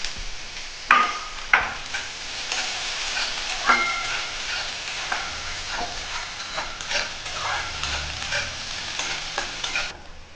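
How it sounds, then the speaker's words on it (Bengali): Small onions frying in white cooking oil, a steady close sizzle with frequent sharp scrapes and clicks of a spatula stirring through the pan across the whole stretch. "পেঁয়াজ ভাজা হয়ে গেছে"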